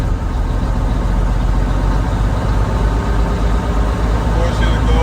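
A Mack R model truck idles on its own without throttle, a deep steady diesel rumble that stays loud and constant throughout.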